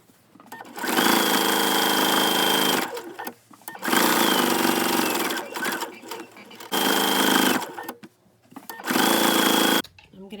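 Sewing machine stitching plush minky microfiber fabric in four loud bursts of rapid whirring, each a few seconds long, with short pauses between them.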